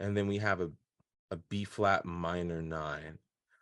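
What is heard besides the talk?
No distinct noise like a dog, phone or traffic.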